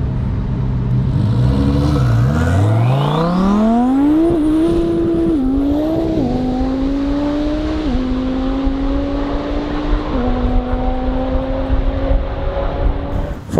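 A twin turbo Lamborghini Superleggera launches on an airstrip, its engine screaming upward through rising revs with several gear shifts, loud and close throughout, the turbo whistle high above the roar.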